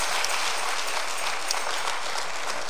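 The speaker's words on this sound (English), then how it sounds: "Let's give Sister Ransom another round of applause." A church congregation applauds during a Sunday communion service, a steady broadband patter of many hands clapping throughout, fairly loud and even with no talking over it.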